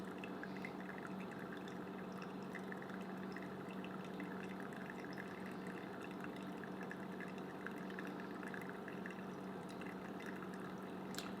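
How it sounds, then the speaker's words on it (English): Water pours from a Brewista stovetop kettle onto coffee grounds in a steady, continuous thin stream, quiet and even for the whole stretch with no talking. "I pour just along the edge to get these grinds back in the middle, and then I'll keep on pouring the rest of the water"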